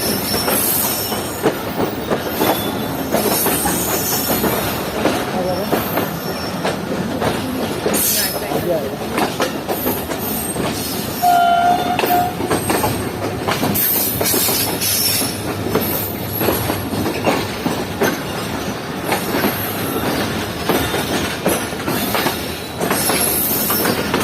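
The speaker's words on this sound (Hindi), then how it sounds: "तो हमारी ट्रेन शायद प्लेटफॉर्म नंबर 3 की तरफ जा रही है।" A train rolls into a platform at Hyderabad Junction with continuous rail rumble and wheel clatter. A brief squeal rises midway, and a voice talks quietly beneath the noise.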